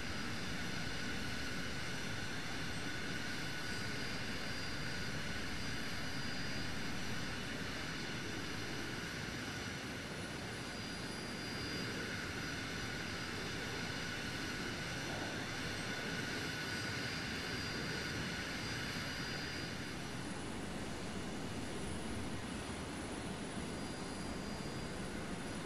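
An aircraft engine in Arma 3 drones steadily and loudly through a runway takeoff, a constant roar with a thin high whine on top that holds for about 25 seconds, with no talking.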